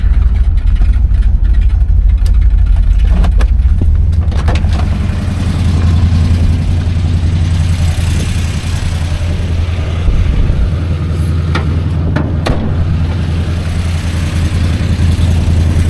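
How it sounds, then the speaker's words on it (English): A 1970 Oldsmobile Cutlass engine idling steadily and loudly up close, a constant low rumble with occasional small rattles and ticks, no voices. "Motor sounds strong."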